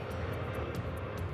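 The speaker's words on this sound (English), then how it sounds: "the MD-11 is still a popular workhorse for flying cargo" Steady broadband roar of an MD-11 cargo jet landing on runway 34 left at Tokyo's Narita Airport, a continuous loud engine rumble with no voices.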